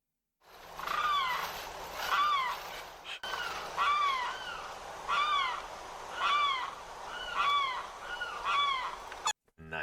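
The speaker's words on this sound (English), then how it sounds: "Let's take a look at this one too. Florida's loudest bird." Florida's loudest bird gives a series of loud, nasal honking calls, about seven evenly spaced squawks close to the microphone with a little background hiss.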